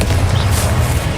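A dense, loud roar from a Confringo explosion spell in Hogwarts Legacy carries on steadily through its short span, close and heavy in the low end.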